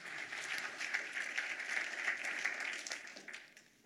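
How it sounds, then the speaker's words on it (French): Audience applause at a conference plenary session, a dense, steady wash of many hands clapping at moderate volume, sustained throughout and tapering slightly at the end. "Allez, vas-y, Jean-Philippe Ackermann, on l'applaudit s'il vous plaît"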